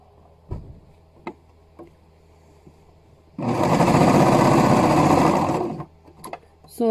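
A sewing machine stitches the shoulder seams of a hoodie in one loud, steady burst lasting about two and a half seconds, with scattered clicks and taps of fabric handling before and after.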